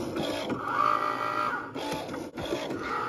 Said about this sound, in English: now that our material is selected, we're going to load our machine and click cut